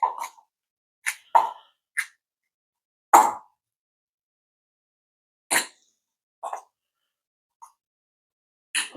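A spoon mixes 28 grams of peanut butter into a cottage cheese meal, giving scattered wet plops and scrapes in short bursts separated by quiet pauses, with no talking.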